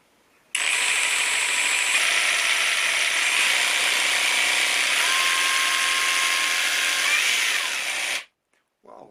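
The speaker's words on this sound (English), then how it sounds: "You've got a rather fast jigsaw there." CAT 18V brushless jigsaw running fast on its variable-speed trigger, a loud, steady rattling buzz that starts abruptly, holds for about eight seconds with a slight pitch shift, then cuts off.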